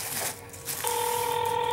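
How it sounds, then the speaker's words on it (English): A mobile phone rings indoors with a steady, loud electronic tone that starts partway through and holds to the end, following a brief stretch of muffled background noise. "Her phone is ringing, yeah."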